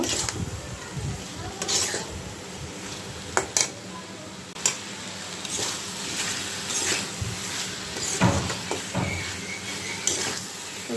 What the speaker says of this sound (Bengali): এখন আমি মশলার সাথে ভালো করে কষিয়ে নেব